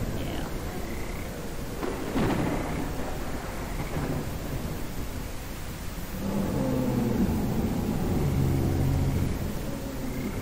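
Heavy rain and rolling thunder from the Beasts of Bermuda game world, a steady downpour with a low rumble building near the end, continuous and fairly loud.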